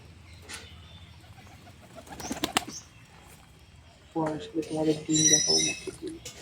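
Domestic pigeons at a rooftop loft: a few sharp bursts of flapping wings at first, then steady throaty cooing from several birds close by that grows louder toward the end.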